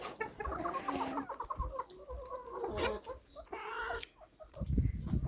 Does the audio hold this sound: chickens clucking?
yes